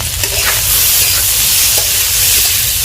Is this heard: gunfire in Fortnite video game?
no